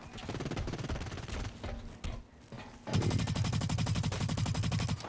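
Rapid machine-gun fire from a PlayStation 4 shooter video game, busy bursts of shots that break off briefly and then return as a loud, dense, steady volley.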